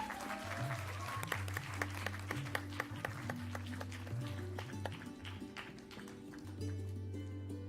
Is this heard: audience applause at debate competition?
yes